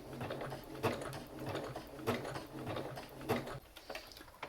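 Sewing machine stitching a small fabric ornament in short stop-start runs, a soft rapid clatter broken by brief pauses and light clicks as the needle is raised and the fabric turned.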